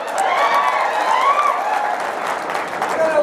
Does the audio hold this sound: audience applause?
yes